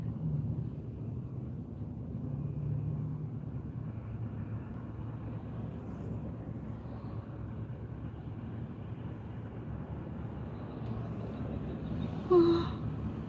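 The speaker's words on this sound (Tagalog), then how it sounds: "Traffic ulit." City street traffic as heard from within slow-moving congestion, a low, muffled engine rumble that stays fairly even, with a brief louder bump near the end.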